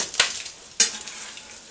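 Chicken and Spam fry in a pan with a steady hiss and sizzle, broken by two brief scraping stirs of a utensil against the pan, close up with no voices.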